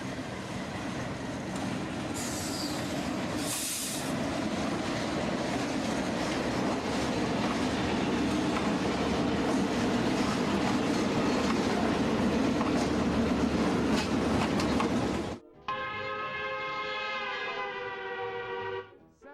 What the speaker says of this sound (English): These D&M RS2 locomotives are crossing the Dead Creek Bridge.